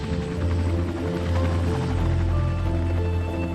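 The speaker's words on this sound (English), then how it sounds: "I could hear the helicopter going overhead" An air ambulance helicopter passes overhead, its deep rhythmic rotor thumping and engine drone steady and fairly loud, growing slightly stronger midway through, with no one speaking.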